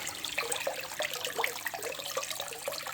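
An Aquael Asap 700 internal aquarium filter pushes a steady stream of water, giving a continuous bubbling, splashing rush with small gurgles, close and moderately loud.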